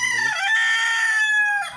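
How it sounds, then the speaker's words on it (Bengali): A farm chicken, one of a flock of Fayoumi laying hens, gives a single loud, drawn-out call close by, lasting over a second with no talking. "এই যে মুরগিগুলা।"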